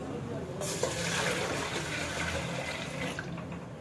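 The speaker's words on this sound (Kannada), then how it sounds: "ನೀರು ಹಾಕಂಬ್ರಿ. ನೀರು ತರ್ತೀನಿ." Water pours steadily from a vessel into an idli steamer pot on a gas stove, a continuous close, moderately loud splashing rush lasting several seconds.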